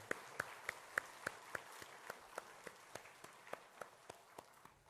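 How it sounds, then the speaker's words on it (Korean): Hands clap together in a steady, even rhythm at a church youth service in Jeonju, each sharp clap ringing out faintly at a regular beat. "박수 한번 다시 하시죠"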